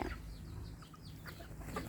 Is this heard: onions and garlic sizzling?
no